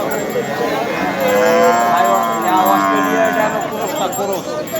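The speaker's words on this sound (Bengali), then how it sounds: "আচ্ছা এই যে যেটা দেখছি কালো রঙের এটা কি জাতের গরু" A black Australian cross-breed cow with six teeth moos loudly in long drawn-out calls at a cattle market, with people talking nearby.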